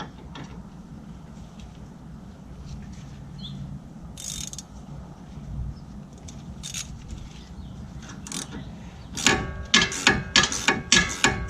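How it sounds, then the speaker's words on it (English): Ratchet working a sway-bar end link bolt on a 2013 Mustang, quiet mechanical clicks and clunks early, then a loud quick series of sharp ratcheting clicks near the end. "So when you're tightening the bolt, you actually want to set your ratchet to loosen"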